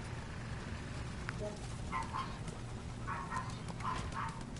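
A dog barks and yips in several short bursts at mid distance over a steady low hum, the barks clustered in the second half.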